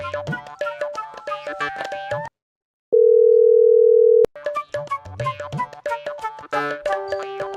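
A steady telephone tone sounds for over a second, sandwiched between stretches of busy, plinking music.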